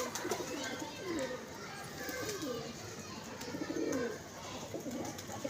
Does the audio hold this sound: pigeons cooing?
yes